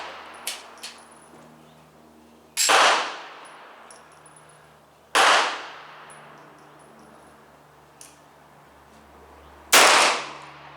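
Gunshots followed by bullets clanging on a steel target, three loud sharp cracks spaced a few seconds apart with ringing decay, plus a few faint distant pings.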